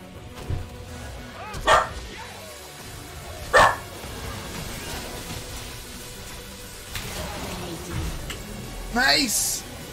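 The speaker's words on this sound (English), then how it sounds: "my dog's barking" A pet dog barks in a few short, separate bursts somewhat off-mic, with game sounds and someone talking over most of the stretch.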